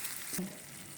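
Squid (sotong) stir-frying in oyster sauce gives a brief, close sizzle with a stir partway through, alone and without talk.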